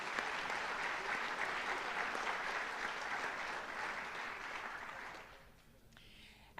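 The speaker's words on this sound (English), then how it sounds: "give our students a round of applause" Audience applause for students at a senior awards night, sustained even clapping from a seated crowd that carries on steadily, then fades out abruptly into near quiet.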